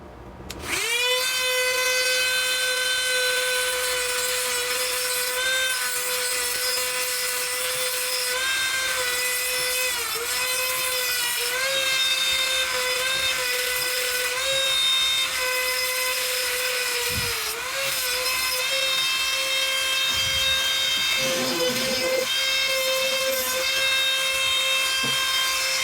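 A Dremel carbide cutter bit spinning at 30,000 RPM bites into wood with a loud, continuous high-pitched whine, steady throughout with brief dips and rough scraping moments as it digs in.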